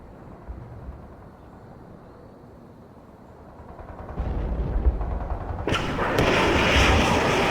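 Heavy artillery barrage in a war game, starting as a distant low rumble and swelling into loud, dense booming fire that crackles brightly toward the end.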